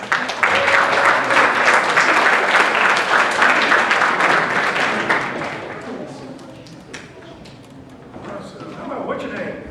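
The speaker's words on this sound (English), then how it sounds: "Give her a nice round of applause." Loud, sustained applause from a magic show audience for about five seconds, then fading into scattered clapping and murmuring voices.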